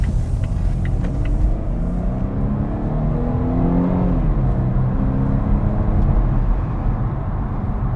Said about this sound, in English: I'm gonna speed it up and check out the acceleration.